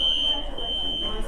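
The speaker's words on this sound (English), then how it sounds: "Not one but 2 fire alarms go off." A building fire alarm sounds continuously as a steady, loud high-pitched tone, with faint voices murmuring underneath.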